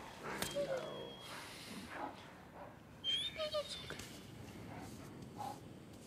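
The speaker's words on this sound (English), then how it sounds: "He's not infected. He's just a dog." A dog whimpers and yips softly in the Days Gone video game, with thin whines scattered through the scene under low ambient noise.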